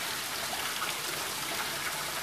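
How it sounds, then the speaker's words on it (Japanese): A waterfall inside a warm insect museum greenhouse, heard as a steady, dense rush and splash of falling water that fills the whole moment without pause. "では滝がありまして、"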